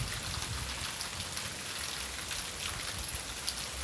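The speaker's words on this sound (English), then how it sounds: "So this is a rainy day. Just a rainy day going." Steady rain pours down on a rainy day, a dense even hiss of drops hitting surfaces close by, continuous and unbroken with no voices.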